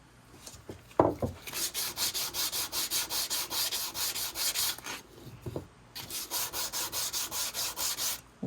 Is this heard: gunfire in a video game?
no